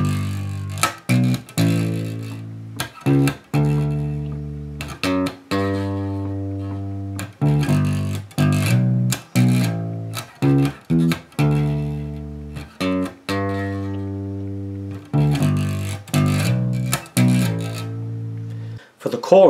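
Bass guitar plays the pre-chorus line of a song, repeated plucked notes with slides up and down in a steady rhythm, close and clean with short gaps between phrases.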